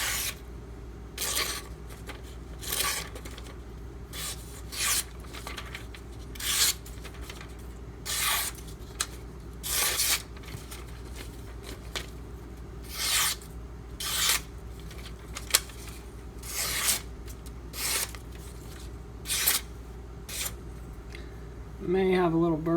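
A Spyderco Manix 2 knife with a Maxamet blade is drawn over a CBN waterstone in a long series of separate, evenly spaced light rasping strokes, close and alone, with a short tonal sound at the very end.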